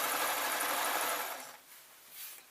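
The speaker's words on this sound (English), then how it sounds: "Okay, so I'm keeping an eye that I am actually sewing both pieces" Sewing machine stitching a scarf from leftover fabric pieces, a loud, fast, steady whirring run of needle strokes that stops partway, leaving quiet with a brief faint whir after.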